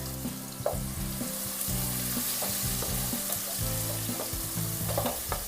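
Sliced onion being stirred and fried in oil in a pan, a loud steady sizzle broken by repeated clinks and scrapes of a spoon, up close with nobody speaking.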